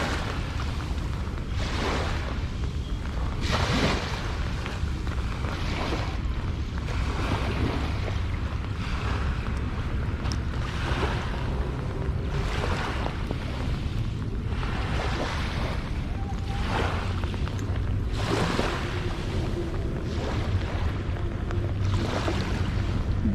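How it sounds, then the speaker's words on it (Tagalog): Sea waves at Manila Bay wash in with steady broadband surf and wind rush, swelling and falling in repeated surges, fairly close and continuous with no voices. "Biglang alon naman."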